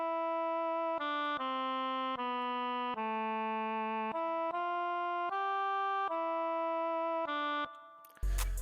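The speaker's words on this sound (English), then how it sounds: "Next I used another oboe from Purity once again" A virtual oboe from the Purity plugin plays a slow stepwise melody of sustained, reedy notes, one after another, clear and alone, with a brief burst of other sound just at the end.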